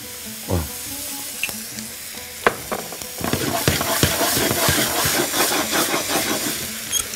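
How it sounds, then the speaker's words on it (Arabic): Chopped onion frying in oil with olive oil poured over, for a savoury pizza topping: a dense, steady sizzle and crackle that swells after a few faint knocks and clinks, close and loud with no talking. "بحط البصل اهو، وبعدين انزل عليه بزيت زيتون"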